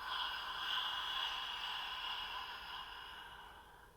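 A single long exhale during a breathing exercise, a soft airy breath close to the microphone that holds steady and slowly fades over a few seconds.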